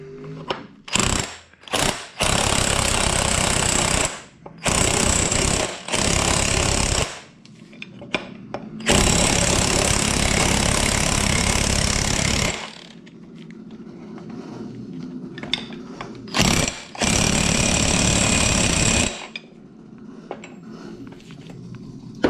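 Bursts of a pneumatic impact tool whir and hammer in repeated runs of a few seconds each, with quieter gaps between them, as a wheel bearing is pressed on in an Infiniti G35 AWD.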